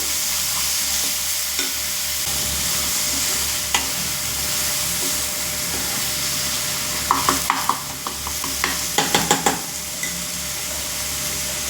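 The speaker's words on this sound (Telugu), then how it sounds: "పచ్చివాసన పోయినంత వరకు బాగా ఫ్రై చేసుకోవాలి." A loud, steady sizzle of onion, ginger and garlic paste frying in a pan for fish curry, with scraping stir strokes and a burst of quick clicks toward the end.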